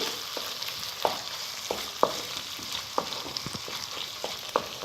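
Keema with whole spices sizzles and fries in a pan, a steady crackling hiss punctuated by the sharp scrape and knock of a spoon stirring every second or so, close and moderately quiet with no talking.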